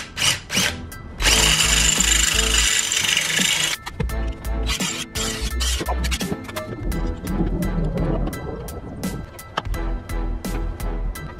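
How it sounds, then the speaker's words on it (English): A power drill repeatedly whirs up as it bores out small holes in a car's control arm, with long loud runs and short bursts broken by pauses and some knocking, and no talking over it. "the actual holes on the control arm are too freaking small, so I'm gonna have to drill these out"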